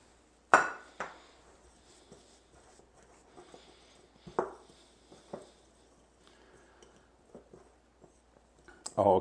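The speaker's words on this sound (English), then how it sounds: "just put them in a bowl and mix them together" A spoon mixes onion powder, garlic powder and other dry spices in a bowl, giving quiet, scattered clinks and scrapes against the bowl with a few sharper taps.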